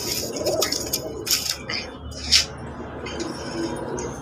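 Fancy pigeons coo in a loft, soft throaty calls rising in a few short bursts against a busy background of other birds and light rustling.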